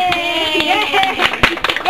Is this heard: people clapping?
yes